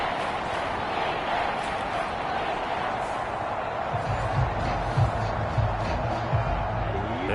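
Stadium crowd in a PS4 football video game roars steadily throughout, a dense continuous cheer that swells slightly louder in the second half, with a commentator's voice talking over it.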